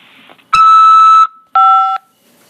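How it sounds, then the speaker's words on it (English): Two loud electronic beeps from an automated phone system before accepting a call from a corrections facility: a long tone about three-quarters of a second, a short pause, then a slightly shorter second tone, clean and alone. "After the beep, press 5 to accept this call."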